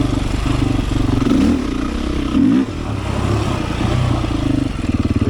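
A Beta 500 dirt motorcycle engine drones loudly and steadily while being ridden on a trail loop, with a pulsing exhaust note that dips and surges as the throttle changes, close and continuous with no talk.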